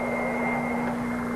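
A private jet aircraft gives off a steady, fairly loud engine drone with a constant whining hum, holding unchanged for about a second and a half with no voices.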